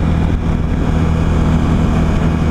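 A Suzuki V-Strom 1000 motorcycle cruising on a highway produces a loud, steady engine drone mixed with continuous wind rush, heard close from the rider's position.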